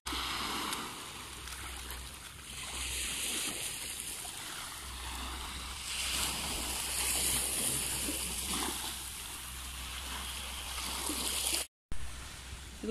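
Broadband wash of waves at a beach during a family breakfast by the sea, steady rushing and splashing water close by, with a brief dropout near the end.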